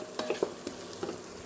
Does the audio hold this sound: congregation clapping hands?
no